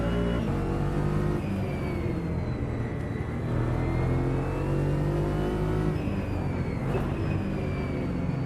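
A GT4 race car in a racing simulator, its engine droning loudly and continuously with rising and falling revs through gear changes, a dense close mechanical roar throughout with no speech.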